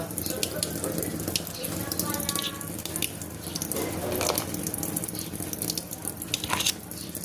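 Water runs steadily from a tap into a sink, a continuous close splashing rush that lasts throughout with slight variations.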